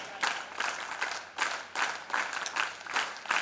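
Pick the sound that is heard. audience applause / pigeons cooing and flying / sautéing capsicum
audience applause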